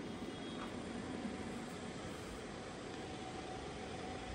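A YMZ-SEIWA MG-915 radial arm drill runs its spindle through a feed stroke, giving a steady, even mechanical hum and whir that holds unchanged throughout with no talk.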